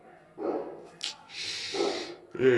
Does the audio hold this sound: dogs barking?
yes